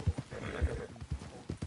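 Horse hooves clip-clop in a quick galloping rhythm in Red Dead Redemption 2, with several heavy thuds close by and a brief whinny mixed in, and no talk over them.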